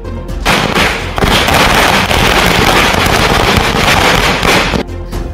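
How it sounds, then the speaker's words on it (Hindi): Dense, loud crackling fireworks pop and burst continuously at Indian election result celebrations, a thick barrage of rapid bangs lasting several seconds. "आतिशबाजी का शोर है।"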